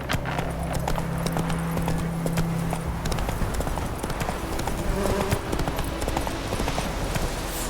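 Hooves clip-clop in a steady, rhythmic gallop as a horse in The Witcher 3 video game runs, sounding close and continuous under faint ambient game sound.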